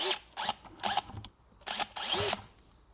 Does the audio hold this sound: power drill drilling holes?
yes